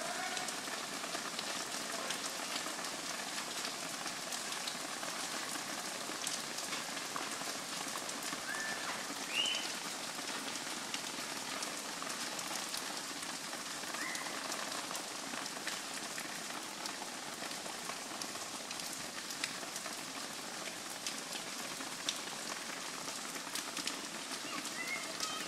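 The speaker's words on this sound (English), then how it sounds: "you guys like the rain?" Steady rain falls throughout during a cold outdoor outing with children, a dense even hiss of drops hitting surfaces, close and continuous with no voices.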